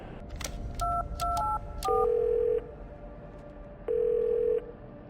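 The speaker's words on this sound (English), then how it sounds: "there's a phone down the platform you can call her from" Telephone keypad dialing on a platform phone in The Darkness video game: a quick run of distinct touch-tone beeps followed by two longer steady tones, clear and close with no talk.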